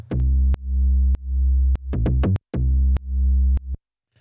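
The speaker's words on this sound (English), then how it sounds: "I guess the next thing to talk about really is the bass." A simple synth bass patch plays a grooving line of deep, sustained notes with sharp attacks, some held long and others in quick bursts, with brief silent gaps, loud and alone.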